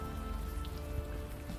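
Steady rain falling on surfaces at night in the video game Unavowed, a dense, even hiss of drops with soft low rumble, continuous and close throughout with no voices.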